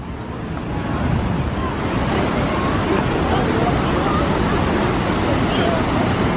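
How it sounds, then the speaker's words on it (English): Rhine Falls waterfall in Switzerland, a constant loud rushing roar of heavy water with wind noise on the microphone and faint crowd murmur in the background. "I can see the waterfall"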